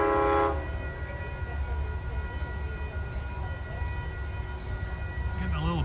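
A Metro-North train arrives at Peekskill station, opening with a loud multi-tone horn blast, then a long steady rumble of rolling cars and wheels, with a squeal of brakes near the end.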